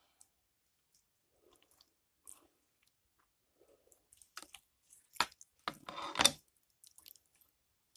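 A knife slices the skin away from a raw chicken thigh, giving a few soft, wet squelching and tearing sounds close up, with a brief cluster of louder squishy cuts near the end, and no talking.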